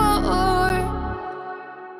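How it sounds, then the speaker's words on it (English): A short EDM-style electronic track plays loudly with dense synth layers and deep bass, then the low end drops out and a sustained tonal tail fades over about two seconds. "So here I have this little EDM style track here."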